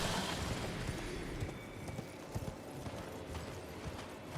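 Horse hooves clopping in Elden Ring, a steady, moderately loud stream of hoofbeats over a noisy game soundscape, with no talk.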